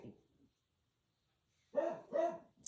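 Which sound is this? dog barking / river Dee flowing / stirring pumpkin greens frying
dog barking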